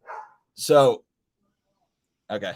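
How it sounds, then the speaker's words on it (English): A domestic dog barks indoors in a few short, loud, close bursts separated by silence, with no other sounds around them. "if you hear my dog barking"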